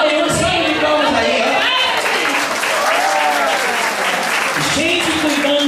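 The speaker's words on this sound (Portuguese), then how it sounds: "olha uma salva de palmas aí" A crowd applauds a church group at a live performance, with loud, continuous clapping and voices and shouts mixed in throughout.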